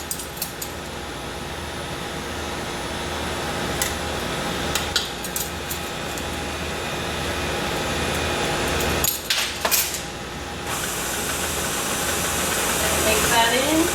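Electric mixer whirring steadily as vanilla is blended into chocolate chip cookie dough, a continuous motor hum with brief clinks against the bowl.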